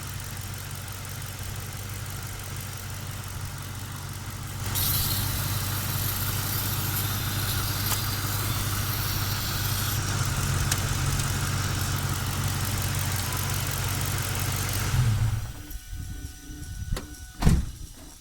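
A car engine idling steadily at close range during a fuel pressure test, rising slightly midway, then cut off near the end, leaving a few faint clicks and a brief thump.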